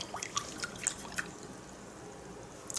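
Water drips from a paintbrush being rinsed in clean water, several close, crisp plinks spaced irregularly over the first second and a half, then a quiet pause before one more drop.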